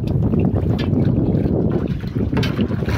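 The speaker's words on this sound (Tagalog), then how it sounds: "Malakas yung hangin natin" Strong wind buffets a fishing boat out on the water, a steady roaring rush across the microphone with no voices.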